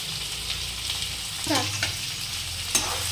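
Onion and garlic frying in a hot pan, a steady sizzle running throughout, with a few scraping stirs of a utensil and a sharp clink near the end.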